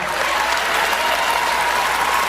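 An audience applauds with a dense, steady burst of clapping at a political speech, loud and continuous with no talk over it.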